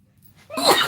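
A single sharp human sneeze bursts out close by after a quiet breath-in, loud and abrupt.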